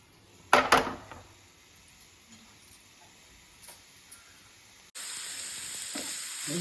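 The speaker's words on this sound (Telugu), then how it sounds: "ఇట్లా వేయించుకుంటుండాలి." Curry ingredients for a prawn and tomato curry frying in a pan, with a loud sizzling burst as they go in, a quieter simmering crackle after, then a steady hiss that rises near the end.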